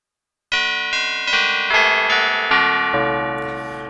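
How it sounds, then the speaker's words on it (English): Bell-like tones from the modal oscillator of an Arturia MiniFreak synthesizer ring out one after another, about six evenly spaced strikes, each chiming and overlapping as the ringing sustains and slowly fades. "you can also do some bell sorts of sounds with this particular oscillator as well"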